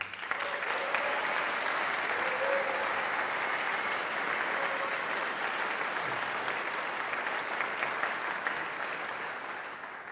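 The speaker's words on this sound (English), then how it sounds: "Let's please give our faculty another round of applause" Sustained applause from a large crowd at an opening convocation fills the whole stretch, a dense even patter that fades slightly toward the end.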